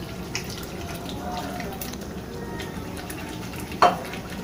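Ginger garlic paste stirred into chicken korma cooking in a pan, giving a soft continuous sizzle and scraping, with a short clatter of utensil against pot near the end.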